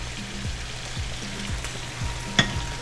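Red peppers with a little salt sizzling in a frying pan, soft steady frying hiss under a series of rhythmic low scraping knocks from stirring, with one sharper clink near the end.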